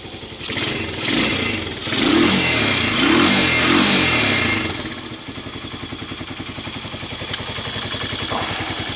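A Romet K 125 motorcycle warms up on a winter day, its small single-cylinder engine revved in a few rising, clattering bursts before it drops back to a steady, throbbing idle up close.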